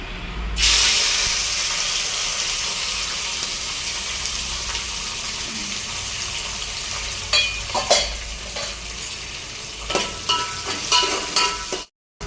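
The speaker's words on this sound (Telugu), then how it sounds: "ఆనియన్ మంచిగా బ్రౌన్ కలర్లో వేగింది." Onions, green chillies and curry leaves fry in hot oil with whole spices, a steady close sizzle and hiss, with spoon stirring and scraping clatter in the later seconds.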